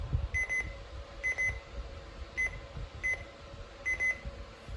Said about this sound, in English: listen to the button beeps